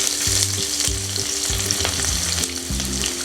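Chopped onions fry in hot ghee in a kadai with a loud, dense sizzle, while a stirring utensil scrapes the pan in short rhythmic strokes, roughly every half second.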